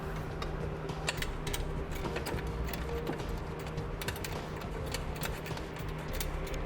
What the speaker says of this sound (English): we'll use our 13mm the socket on our ratchet and we'll tighten the 4 bolts on each bracket